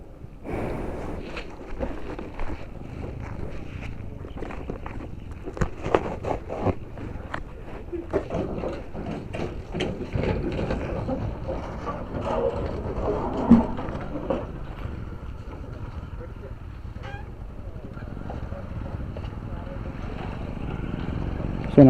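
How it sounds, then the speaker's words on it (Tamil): The Amplamthuri ferry coming in to land, heard as a steady low engine and wind rumble with scattered knocks and clatter, while someone talks over it throughout. "வந்து பார்த்தீங்கன்னா பாதை வந்துட்டு இங்கே தான் வந்து லேண்டாக போகுது"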